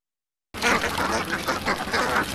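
More than a thousand Indian Runner ducks quack together in a vineyard near Stellenbosch, South Africa, a dense and continuous chorus of overlapping quacks that starts abruptly and stays loud throughout.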